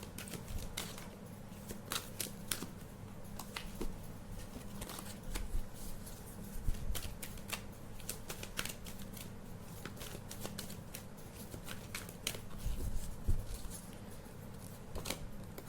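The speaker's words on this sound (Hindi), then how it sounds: "एक साथ कार्ड निकालूंगी एंड बताऊंगी" A tarot deck is shuffled and cards are drawn up close, making a continuous run of crisp papery riffles, flicks and slaps that lasts about sixteen seconds with no one speaking.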